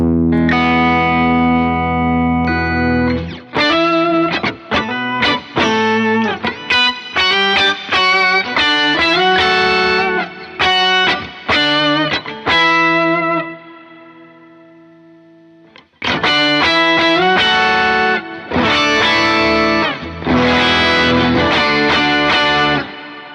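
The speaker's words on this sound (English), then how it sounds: "that's just an octave pedal, and it does the octave sound" Thick, effected electric guitar played through an octave pedal, playing chords and riffs with a doubled octave tone, loud and sustained, pausing briefly before resuming.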